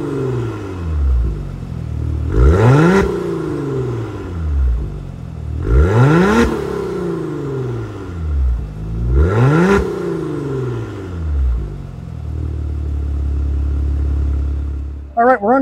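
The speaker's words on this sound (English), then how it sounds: "Maserati usually does a great job with exhaust sound" A 2023 Maserati Levante Modena with a twin-turbo V6 is revved three times in a row. Each blip rises sharply, peaks loud, then falls back to a steady idle that carries on after the last rev.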